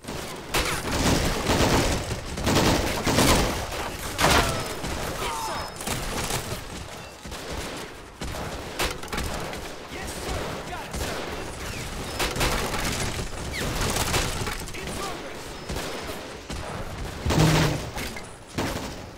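Submachine gun fire in the Men of War Assault Squad video game: dense, rapid bursts of gunfire crackle almost continuously, with sharp loud volleys and overlapping shots from several weapons throughout.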